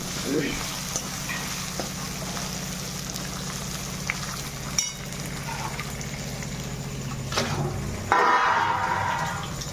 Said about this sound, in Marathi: चांगल्या परतून घ्यायच्या मिरच्या ह्या